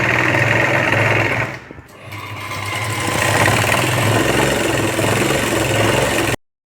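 A sewing machine runs fast, stitching lace along the border of a saree, a steady close mechanical whir that briefly slows and dips before picking up again and then cutting off.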